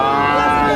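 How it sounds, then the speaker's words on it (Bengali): A three-month-old red Sahiwal bull calf lows at a busy cattle market, a single sustained, loud, close moo with rich harmonic tone filling the brief moment. "শাহিওয়াল ষাঁড় বাছুর"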